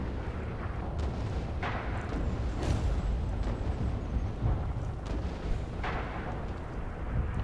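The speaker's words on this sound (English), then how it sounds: "Ooh, they're firing on me." Rumbling gunfire and booms from Russian soldiers in the First World War game Aufmarsch, a dense, continuous barrage with sharp cracks at irregular intervals over heavy low rumble, no talk.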